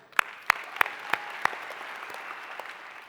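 An audience at a plenary session of a youth summit claps, starting with a few sharp, loud, separate claps that blend into steady, even applause from a crowd.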